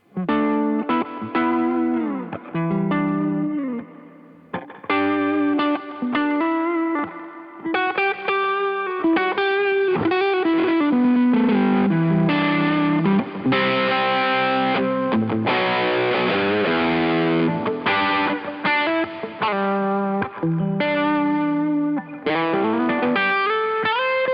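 An electric guitar played through an overdrive pedal, chords and riffs with a gritty, saturated tone, loud and continuous with short pauses between phrases.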